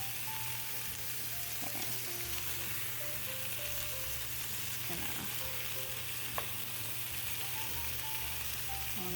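Jackfruit frying in a pan at home, a steady close sizzle and crackle running throughout, with a brief word spoken once.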